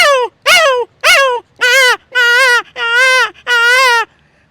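A voice imitates a small puppy with seven quick, high yelping whimpers in a steady series, each short and bending downward at the end; loud, close and alone, with short silences between the yips.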